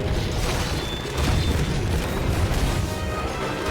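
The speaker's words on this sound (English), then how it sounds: "there's little explosions that happen every time it steps down" Repeated low booming blasts from the heavy footsteps of Teppeki, a large monster in Monster Hunter Online, each step setting off small explosions within a continuous rumbling battle din.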